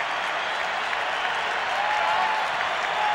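A huge stadium crowd of more than 55,000 roars and cheers at an Oakland Coliseum baseball game, a dense, steady wash of noise filling the whole span without a break.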